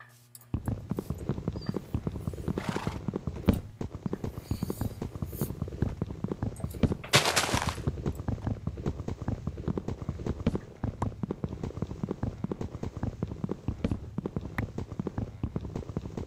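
Horse hooves clip-clopping in a video game, a steady run of close, loud hoofbeats that carries on throughout, with a brief burst of noise near the middle and no audible neighing.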